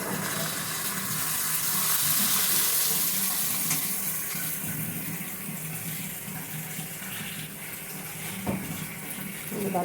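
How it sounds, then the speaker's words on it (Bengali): Water runs into a bowl while a spice bowl is rinsed during cooking, a steady close splashing flow that lasts throughout, with a brief clatter near the end. "মশলার বাটি ধুয়ে একটু জল দিয়ে দিচ্ছি"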